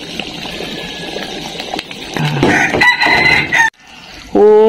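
A rooster crows loudly nearby in a village, its drawn-out call rising and breaking, with faint background noise and a splash of liquid before it.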